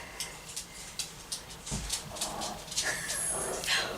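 Dogs wake and start playing in another room, with scattered faint thumps, scrabbling and small whimpers and yips heard from a distance, muffled and low against a quiet indoor background.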